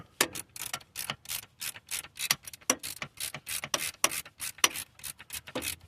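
A hand ratchet clicks in quick, uneven bursts while loosening a nut on a 2007 V6 pickup truck engine during a water pump replacement, close up and fairly quiet, with no voices.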